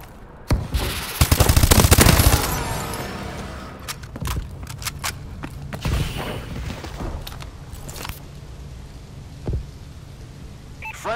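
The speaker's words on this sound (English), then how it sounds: "Friendly bombing run clearing the way." In Call of Duty Advanced Warfare, a friendly bombing run opens with a loud, dense burst of machine-gun fire and blasts. Scattered sharp shots and thumps follow in a quieter, echoing battlefield.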